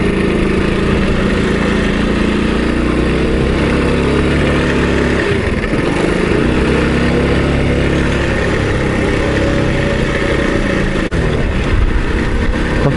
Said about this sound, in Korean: 오토바이가 지금 옆으로 가고 있어.